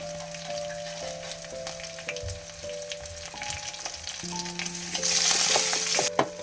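Crushed shallots and curry leaves fry in hot oil while being stirred, a steady close sizzle with scraping strokes that grows louder and brighter toward the end.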